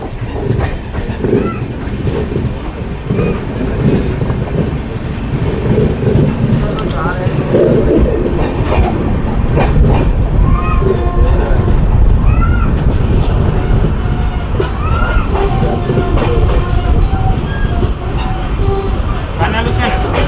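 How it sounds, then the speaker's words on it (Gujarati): A train runs past Kanalus junction, where double-track work is under way, with a loud, continuous rumble and rattling wheels, while someone talks over the din. "અત્યારે આપણી ટ્રેન મિત્રો કાનાલુ જંકશન સ્કીપ કરી રહી છે."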